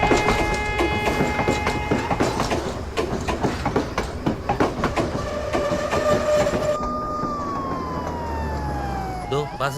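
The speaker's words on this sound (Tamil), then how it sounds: "பாசஞ்சர் ட்ரெயின் வந்துருச்சு." A passenger train rolls in with rumbling wheels and rhythmic clatter, loud and close, then a long descending horn or whistle tone sounds as it arrives, with voices partly heard over the noise.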